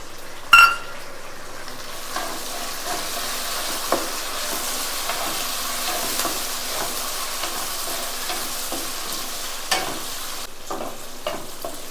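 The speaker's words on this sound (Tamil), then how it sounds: "தக்காளி சேர்த்து இதை கொஞ்சம் வதக்கிட்டோம்." Onion, green chili and tomato sautéing in a pan, a steady soft sizzle broken by a sharp clank at the start and scattered light scrapes and clinks of a spoon stirring, close and without talk.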